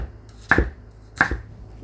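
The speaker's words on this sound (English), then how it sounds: "Seeds are out of it, and I'm going to chop it up." A knife chops a seeded habanero pepper on a cutting board, making two distinct, close, crisp thuds about three-quarters of a second apart over a faint background hum.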